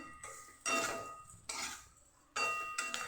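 A spoon stirs sugar and ground sesame into a spice mixture in a bowl, making repeated close scraping and clinking strokes in three bursts with short gaps between them.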